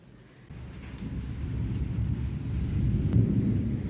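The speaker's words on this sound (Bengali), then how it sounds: "বাইরে তো বৃষ্টি হচ্ছে" A thunderstorm with heavy rain: low, rolling thunder rumbles continuously beneath a dense hiss of rainfall, growing louder toward the end, while a thin steady high-pitched whine runs throughout.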